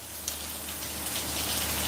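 Rain falling outdoors as a steady, even patter with a few louder drops landing nearby, alone with no voices.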